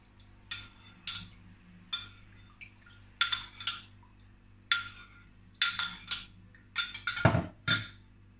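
A utensil beats an apple fruit cocktail mixture in a glass or bowl, giving repeated bright clinking strikes in irregular bursts, close and clear with no talk.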